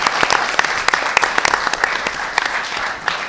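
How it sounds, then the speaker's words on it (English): An audience claps for students of the month at a school event, a busy stretch of overlapping hand claps with some sharp individual claps standing out, continuous and moderately loud throughout. "How about a nice round of applause for all our students of the month?"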